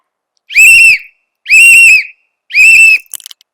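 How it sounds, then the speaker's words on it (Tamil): Three loud, sharp blasts on a whistle, each about half a second long and evenly spaced, followed by a few faint clicks. "விசில் ஊதிட்டா ஒரு தடவை"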